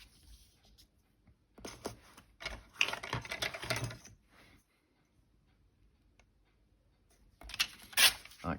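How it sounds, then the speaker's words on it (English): Craft paper is torn by hand in two rustling bursts separated by a quiet pause, close by and moderately loud, with no talking. "So, I'll tear him down there. and tear it across there."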